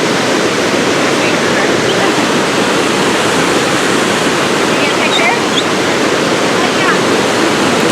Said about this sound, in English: Oh boy, it's a roaring river. We found the waterfall.